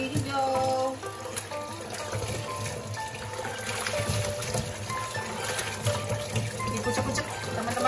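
Yellow velvetleaf and mustard greens washed in salted water, heard as continuous splashing and trickling water with the leaves being swished and shaken nearby.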